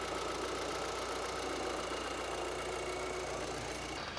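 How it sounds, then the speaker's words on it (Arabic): Idling 2.0-litre engine from a VW Golf 6 R20, with a turbo in poor condition: a steady, faint mechanical hum with a fine rapid ticking running evenly throughout, heard close up with no talking. "نسمعوا الموتور مع بعضنا"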